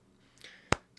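A single sharp hand clap, struck with the palms meeting off-axis, lands as one loud, crisp burst after a faint soft rustle, then silence.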